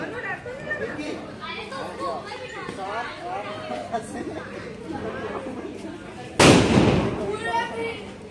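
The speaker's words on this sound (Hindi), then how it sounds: "सो गाइस पटाखे के धमाके में ना कान झन्ना जाता है" A firecracker bursts at a Ravan Dahan Dussehra celebration in Indore, one loud sharp blast cutting through a crowd's steady chatter and voices, followed by a crackling, rumbling tail as the noisy gathering continues.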